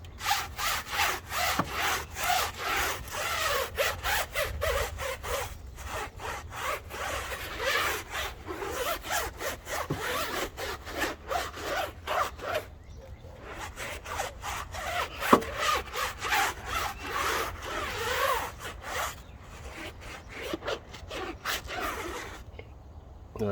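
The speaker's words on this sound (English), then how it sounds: "Alright, so start scrubbing the tires." A brush scrubs car tires with Griot's Garage 3-in-1 acid-free wheel, tire and mat cleaner, making rapid, rhythmic scratchy strokes close by. The strokes come in quick bursts with a few short pauses, and no one talks.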